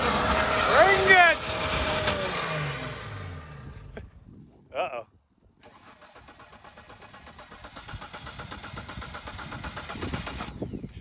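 A diesel engine in a washer-fluid test cranks and fires, a rough loud start and run that cuts out, then a short sputter and a quieter engine rising steadily again, with voices talking over it.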